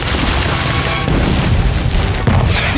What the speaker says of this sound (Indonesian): seorang perwira asing mengambil kesempatan atas peristiwa tersebut dengan meledakkan kuil secara membabi buta